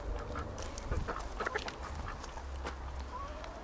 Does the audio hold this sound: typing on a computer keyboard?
no